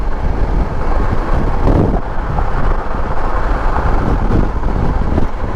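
Strong gusty wind roars across the microphone while a 1994 Honda ST1100 motorcycle rides on the road, a loud continuous rushing buffet with engine and road noise beneath and no talk.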